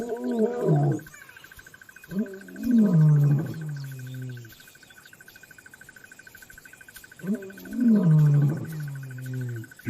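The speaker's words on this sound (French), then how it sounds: "Leurs rugissements mettent les lionnes et leurs petits en alerte." Male lions roar in the wild at night, three deep drawn-out roaring calls with grunting tails, loud and close, spaced a few seconds apart over a steady chorus of crickets.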